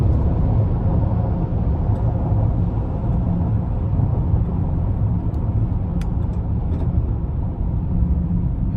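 2022 Chevrolet Traverse Premier cruising on the interstate, a steady low road rumble and tire noise filling the cabin with faint occasional ticks, no talking.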